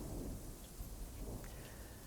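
Steady rain pours down during a thunderstorm with a dense, continuous hiss, while low thunder rumbles underneath throughout, close and full.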